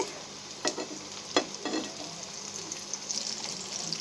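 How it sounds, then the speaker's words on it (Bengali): Beef kebabs (Chittagong-style beef koyab) fry over medium heat in hot oil, giving a steady low sizzle with a few sharp clatters and scrapes as the pieces are turned, close and alone. "আমি আস্তে আস্তে কোয়াপগুলো ভেজে নেব"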